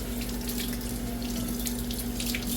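Tap water runs steadily into a kitchen sink while small onions are rinsed, a close, continuous splashing stream with no talk.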